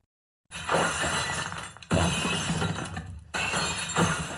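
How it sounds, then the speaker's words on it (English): Glass shatters in three loud bursts after a moment of silence, each crash followed by a ringing tail of scattering shards. "Sound of the breaking glass"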